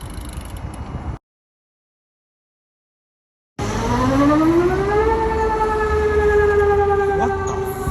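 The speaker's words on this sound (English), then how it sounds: "don't get fooled by the sirens. They're not over." An emergency siren wails on a street in Hellerup during car spotting, coming in loud after a short dropout, its tone climbing and then holding a steady, sustained howl over traffic noise.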